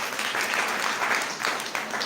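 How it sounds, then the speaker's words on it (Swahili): An audience claps at a career guidance session, a dense, even burst of applause lasting about two seconds. "Tumpigie makofi."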